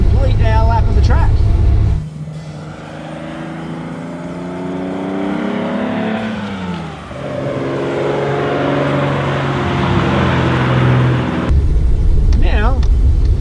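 A home-built Datsun 240Z driven hard around a track lap, its engine droning loud and close with rising and falling revs and a gear-change dip, while a voice talks over it at the start and end.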